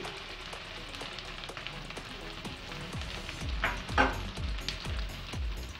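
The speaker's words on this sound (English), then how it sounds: "and fry well properly" Chopped onion and green chili with chopped garlic frying in a pan of oil, a steady soft sizzle with crackling pops and brief stirring scrapes, close and fairly quiet, with no talking.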